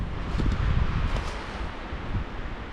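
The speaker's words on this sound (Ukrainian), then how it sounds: "почався вітер і вже дощ накрапає." Gusty wind rushes and buffets the microphone with a steady roar that swells and eases, as light rain begins in the Carpathian mountains, with no voices.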